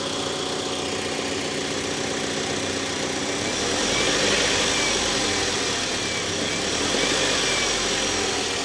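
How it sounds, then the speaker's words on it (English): A D-series engine in a Honda Civic idles steadily and smoothly, a close, even mechanical hum with a constant low rumble that swells slightly midway, and no talk over it. "this is a very tight sounding, very smooth 260 mile D series."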